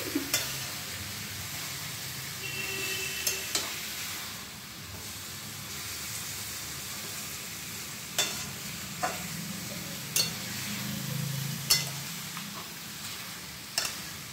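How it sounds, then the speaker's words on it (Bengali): Chicken pieces being stirred in hot oil in a pan produce a continuous soft sizzle, with scraping stir strokes and sharp utensil clicks recurring every second or two, close and fairly quiet throughout. "ভালোভাবে নেড়ে তেলের সাথে মাংসটা ভালোভাবে মিশিয়ে দিচ্ছি।"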